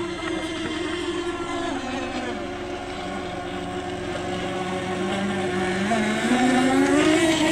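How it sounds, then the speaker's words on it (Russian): A rescue boat's outboard motor crosses a sailing race course on a pond, a steady droning hum that rises in pitch and grows slightly louder toward the end, with wind in the background. "Спасательная лодка пересекает гоночный курс."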